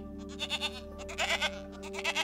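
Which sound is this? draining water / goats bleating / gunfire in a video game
goats bleating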